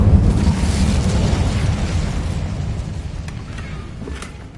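A fire spell cast in Hogwarts Legacy gives a loud, rumbling burst of flame that roars at the start and slowly fades over several seconds, with no talk.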